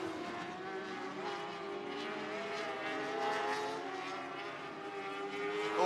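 Dwarf race cars screaming around the oval at Sunset Speedway Park during Speedweek, several high-revving engines droning and overlapping continuously at mid distance, swelling as the pack passes.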